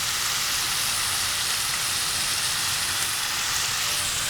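Aromatics sauteing in a pan with sesame oil and Coke, a steady dense sizzle and crackle that holds at an even level throughout, close and fairly loud with no voices.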